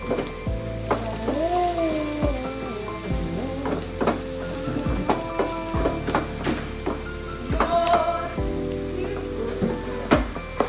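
Onions sizzling and frying in a pan on a home stove, a steady crackle with occasional stirring knocks and scrapes, close and fairly loud, with no talking.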